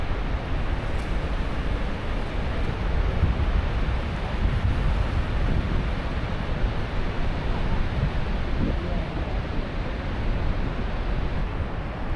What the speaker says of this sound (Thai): พอสัมผัสได้ถึงเสียงที่กึกก้องและความแรงของน้ำรวมถึงความยิ่งใหญ่ของน้ำตกในแองการ่าครับ